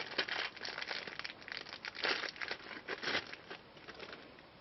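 Packaging for an AMD Radeon HD 7970 graphics card is being opened, with close, irregular crinkling and rustling bursts of plastic and cardboard and no voices.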